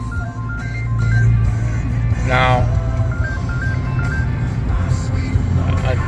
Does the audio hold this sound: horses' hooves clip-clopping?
no